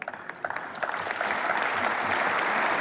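Applause from an audience, starting with a few scattered claps that quickly swell into steady, dense clapping, moderately near and unbroken by talk.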